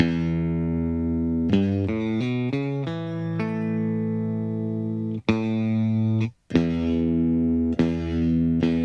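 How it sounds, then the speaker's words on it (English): An electric guitar plays sustained notes through a compressor pedal, each note swelling evenly and ringing at a steady level, with a few short slides and brief gaps between notes. "You can almost hear the volume kind of come up after I hit the note."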